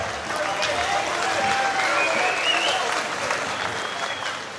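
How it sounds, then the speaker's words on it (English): Fight crowd applauding and cheering before round three of a SALT Fight Series kickboxing bout, a steady loud wash of clapping with shouts and whistles, a commentator's voice running over it. "The crowd is pumped for round 3."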